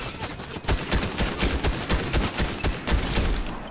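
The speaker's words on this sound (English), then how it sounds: "Your bullets all missed me and somehow it killed me?" Rapid bursts of automatic gunfire in the video game Fortnite, dense overlapping shots crackling loudly for several seconds without talk.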